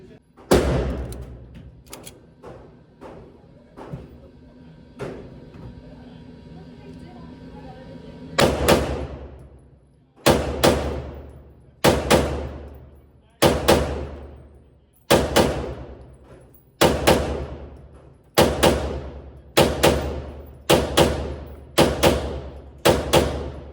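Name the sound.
pistol gunshots at the range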